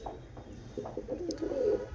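Pigeons in a loft, several of them kept for breeding, coo in low, soft, repeated calls close by, with a few faint chirps and no talking.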